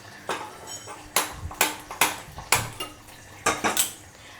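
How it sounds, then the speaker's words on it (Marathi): Peanuts roasting in a pan are stirred with a metal utensil, giving sharp clinking scrapes against the metal in an irregular series of about a dozen close, fairly loud strikes with no talking. "तोपर्यंत शेंगदाणे पण भाजून घेते लगेचच"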